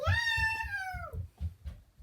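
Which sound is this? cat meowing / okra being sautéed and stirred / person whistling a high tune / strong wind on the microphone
cat meowing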